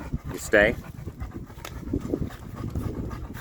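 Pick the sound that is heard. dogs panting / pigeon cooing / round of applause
dogs panting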